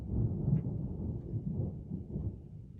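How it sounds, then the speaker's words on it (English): Low, distant rumble of thunder rolling steadily for a few seconds, muffled and moderately quiet, with no voices. "Well, that's thunder."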